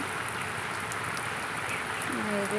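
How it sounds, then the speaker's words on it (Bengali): Steady, even monsoon rain hiss in a Sundarbans village fills the whole stretch, with a faint tonal call rising near the end. "বেশি বেশি বৃষ্টি হচ্ছে, আবার কম কম বৃষ্টি হচ্ছে কোনো কোনো সময়।"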